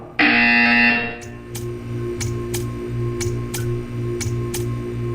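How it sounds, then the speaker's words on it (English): A loud, harsh buzzer in the video game Portal 2 blares for about a second, then a steady hum continues with evenly spaced ticks sounding about twice a second. "You will hear a buzzer."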